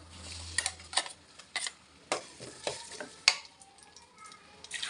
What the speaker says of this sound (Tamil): இப்போ வெங்காயம் நல்லா வதங்கிருச்சு இப்போ இதில் வந்து மசாலாவை சேர்த்துக்கலாம்